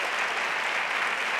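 Brief dense applause from a conference audience of educators, a steady wash of many hands clapping at once, close and even for about a second and a half.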